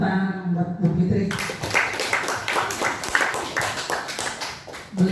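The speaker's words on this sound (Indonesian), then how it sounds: "Sekali lagi tepuk tangan buat Bu Fitri." An audience applauds, with a dense patter of many hands clapping rising suddenly after a brief voice and continuing steadily, moderately close, under some light talk.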